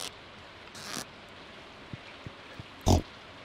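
A pig oinks in the farming game Stardew Valley: one loud grunt near the end, after a few faint short blips and an earlier burst of noise, with no talking over it.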